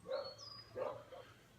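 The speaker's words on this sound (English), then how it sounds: "But it's the neighbours' dogs." A neighbour's Staffordshire bull terriers bark a few times in the distance, two or three faint rough barks spaced apart, with no talk over them.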